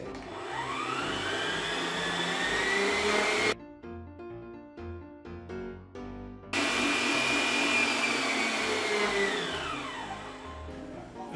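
An electric mixer beats microwave-melted butter into a cream for a filled chocolate cake, whirring steadily and loud, with a short stretch of choppier, lower mixing in the middle before the steady whine returns.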